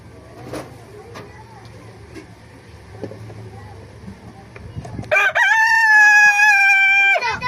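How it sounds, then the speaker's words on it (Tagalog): A pet rooster gives one loud, drawn-out crow close by at the end, its harmonic call holding for about two seconds after a stretch of quieter background noise and faint clucking. "sorry sa tilaok ng manok ko"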